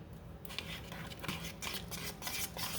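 A spoon stirs protein chaffle batter in a bowl, giving repeated close scraping and clinking strokes in an uneven rhythm, with no talk.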